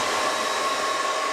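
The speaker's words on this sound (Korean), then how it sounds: "픽서 뿌리고 나서 바쁘니까 드라이기" A handheld hair dryer blows a steady, close, loud whoosh with a faint whine, used to dry makeup setting spray on a face, running alone throughout and cutting off at the very end.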